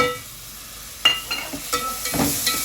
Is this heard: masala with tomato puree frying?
yes